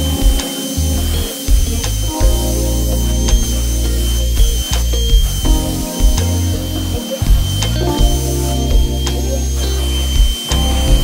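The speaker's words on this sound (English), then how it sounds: "Handheld vacuum. It's great for getting up small messes." A handheld vacuum from Walmart whirs while picking up small messes, a close, steady motor whine with brief dips and cutoffs as it is switched and moved around.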